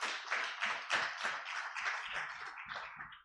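Audience at a women's law convention clapping in a steady rhythm of distinct, fairly close handclaps that thin out toward the end, with no talking.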